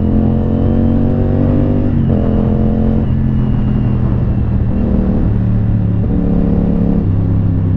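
A CF Moto 450 SR-S motorcycle engine revs in repeated throttle blips, its loud droning exhaust rising and dropping in pitch every second or two, close and continuous with no talking.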